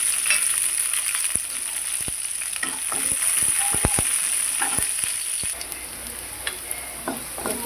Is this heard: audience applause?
no